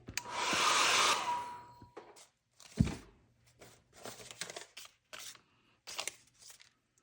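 A hair dryer blows over layers of acrylic paint in a loud, steady burst of about a second and a half, followed by soft crinkling, tapping and handling noises.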